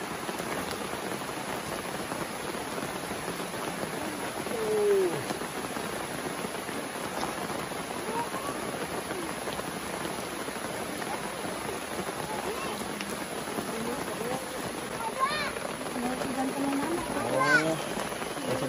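Steady rain falls outdoors in a village setting, a continuous even hiss of drops lasting throughout, with faint voices murmuring underneath.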